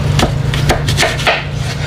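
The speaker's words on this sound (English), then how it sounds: "if you don't have a peeler, how you can cut it with a knife" Knife cutting an apple into wedges at an angle, several close, crisp crunching slices in an irregular rhythm over a steady low hum.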